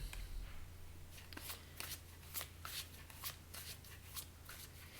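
Tarot cards being shuffled with repeated soft riffling bursts in a steady rhythm, close and quiet over a low hum.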